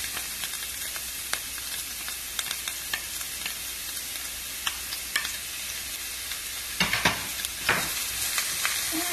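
Garlic, shallot and ginger stir-fry in a hot pan, a steady close sizzle with frequent small clicks and scrapes of a utensil against the pan, a few louder stirring clatters near the end, and no speech.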